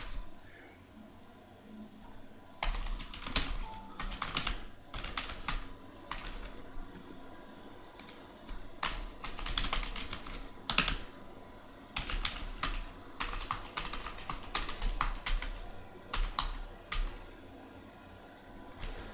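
Router commands being typed on a computer keyboard, with irregular bursts of clicky keystrokes and pauses between them over a faint steady hum.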